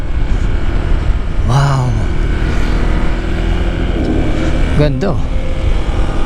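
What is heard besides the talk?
Honda ADV 160 scooter riding on road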